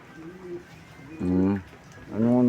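Taiwan pigeons coo in a few low, throaty phrases close by, a short soft call followed by two louder rounded coos separated by brief pauses, with faint background murmur.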